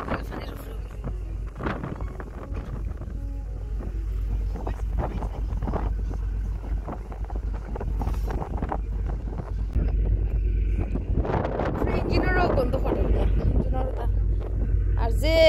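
Strong wind on a boat crossing to the Isle of Wight buffets the microphone as a constant low roar, with voices talking over it and gusts growing stronger toward the end.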